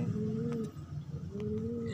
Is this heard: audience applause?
no